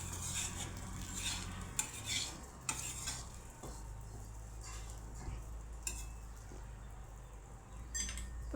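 A spoon stirs and scrapes through a spinach and paneer muthiya mixture in a pan after powdered sugar is added, with repeated metallic clinks and a soft sizzle underneath. The sounds are close and there is no talk.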